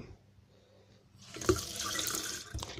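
Water pours into homemade juice after a quiet start, rising into a close, bright splashing rush that runs steadily to the end.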